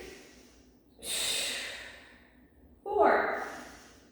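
Two deep, audible breaths during a Pilates exercise, a long inhale followed after a pause by a strong exhale, close to the microphone in a quiet room.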